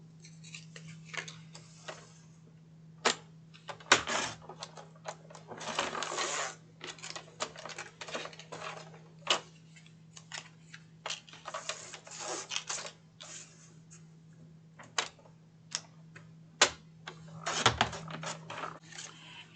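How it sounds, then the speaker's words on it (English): A paper trimmer slicing through gift tags, with irregular short crisp cutting and sliding clicks and rustles, close and fairly quiet over a steady low hum. "I'm going to place these in the trimmer and trim them at 2 by 2"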